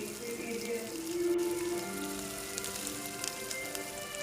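Ginger garlic paste fries in a pan with a soft, continuous sizzle and crackle. Faint tinny clinks sound over it at a close, moderate level, with no talking.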